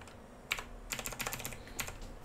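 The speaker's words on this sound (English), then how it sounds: "It's a mechanical keyboard, so it just clicks a lot." Clicky keystrokes on a Razer mechanical computer keyboard, a few quick scattered presses and short bursts close up over a quiet background, no voices.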